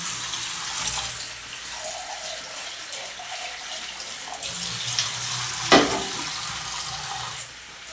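Water poured from a tap into a mixer grinder jar with leftover spice paste, a steady trickling splash in a kitchen with a brief louder clink or splash midway.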